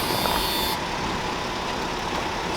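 A 30-year-old Ford Mustang idles steadily after sitting unused for a month, a continuous low engine hum with a faint high whine that drops away early, no voices over it.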